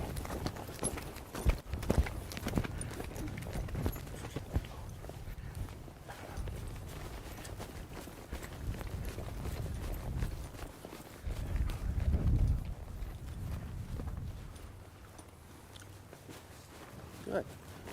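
A horse ridden while working cattle walks and trots, its hooves thudding and clip-clopping in uneven runs on soft ground, mostly under people talking.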